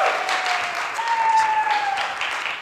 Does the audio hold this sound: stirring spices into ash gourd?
no